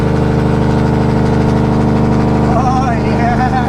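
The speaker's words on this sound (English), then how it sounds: "Jake brake for the win" Heavy truck engine running with its Jake brake engaged, a loud, steady low drone with a pulsing rumble that shifts slightly in pitch near the end, close up throughout.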